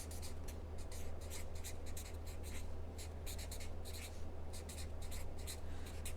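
Pen strokes on a sheet of paper come in quick, repeated scratchy bursts, close and fairly quiet, with no talking.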